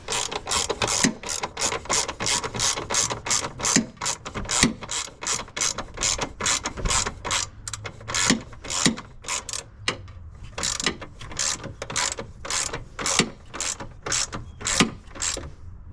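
A ratchet tightens the screws on a 2007-2014 Cadillac Escalade HID headlight, giving rapid, close clicking in steady bursts with brief pauses between strokes and no talking.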